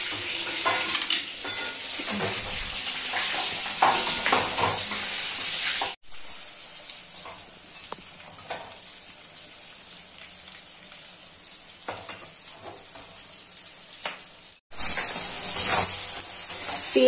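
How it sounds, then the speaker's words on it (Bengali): Chili chicken fries in a pan with a loud, close sizzle and crackle, broken by brief gaps and occasional stirring and utensil clinks. "ভাজছে, চিলি চিকেন হবে, ভাজা হচ্ছে।"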